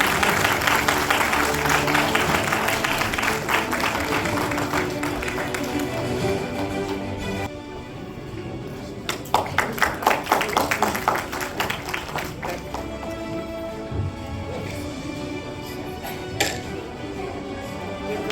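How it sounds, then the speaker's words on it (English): An audience at a school ceremony applauds in a sustained, dense burst of clapping that dips briefly, then resumes in a second round with distinct individual claps, loud and near. "Please give him a round of applause."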